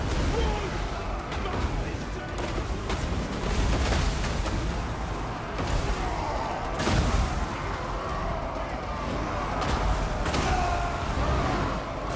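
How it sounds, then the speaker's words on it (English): Continuous booming blasts and crashing impacts rumble in a dense, chaotic barrage of warp cannon artillery fire in Total War: Warhammer II, with no pauses between hits. "Warp cannons hammering both of them."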